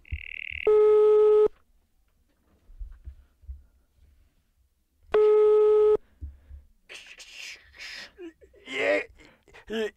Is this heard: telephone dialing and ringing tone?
yes